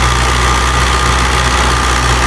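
A 2004 Fiat 640 tractor with a 60-cutter rotavator mounted behind idles loudly and evenly, a dense steady engine rumble with constant vibration and no pauses or voices.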